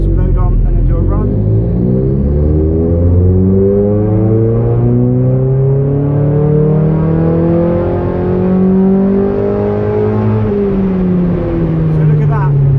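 Mazda MX5 engine revving under load on a dyno, a loud close rumble climbing steadily in pitch through a long pull, then easing off near the end.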